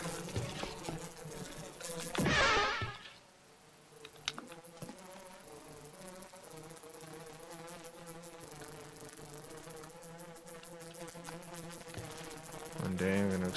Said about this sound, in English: They're infinite bees.